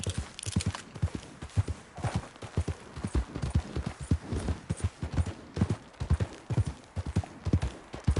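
A horse in Red Dead Redemption 2 sets off at a gallop, its rhythmic hoofbeats clip-clopping steadily and fairly close for several seconds over a faint background bed.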